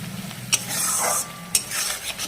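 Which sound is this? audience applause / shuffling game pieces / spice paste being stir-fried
spice paste being stir-fried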